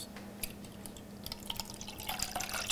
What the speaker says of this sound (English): then we're gonna pour the water